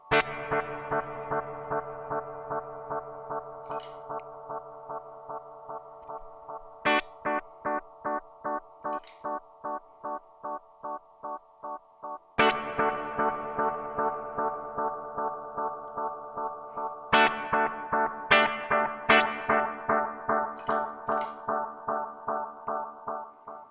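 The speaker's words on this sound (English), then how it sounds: "we sent the reverb into the delay in the serial mode" Electric guitar chords played through a NuX Atlantic pedal with reverb routed serially into delay: several loud strums, each trailed by a steady pulse of rhythmic echo repeats that slowly fade under a washy reverb tail, with no talking.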